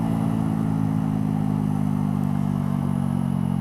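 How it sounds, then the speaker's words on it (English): Steady motorcycle exhaust drone from a 2018 Mutt Fat Sabbath 125cc, with a low, constant engine hum, continuous and fairly loud, as if recorded while riding at a steady pace. "the exhaust just sounds brilliant on these kinds of roads"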